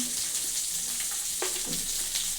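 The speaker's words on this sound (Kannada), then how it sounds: "ಈರುಳ್ಳಿ ಬೆಳ್ಳುಳ್ಳಿ ಎಲ್ಲ ಫ್ರೈ ಮಾಡ್ಕೊಳ್ಳೋಕ್ಕೆ ಈರುಳ್ಳಿ ಹಾಕ್ತಾ ಇದ್ದೀನಿ ಬೆಳ್ಳುಳ್ಳಿ ಹಾಕ್ತಾ ಇದ್ದೀನಿ" Onion and garlic fry in hot oil for a sambar, giving a steady close sizzle with a few soft stirring scrapes and no talking.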